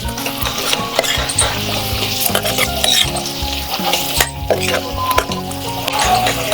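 Potatoes stir-fried with spices in a hot pan for an aloo-vangi curry, a steady loud sizzle with repeated scraping and stirring strokes throughout, no talking.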